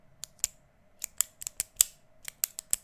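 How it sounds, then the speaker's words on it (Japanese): A Jetstream ballpoint pen clicked repeatedly, about a dozen sharp, close plastic clicks in an uneven rhythm, each one crisp and distinct against a quiet background. "私これ好きなんですけど、カチカチやってみますよ。"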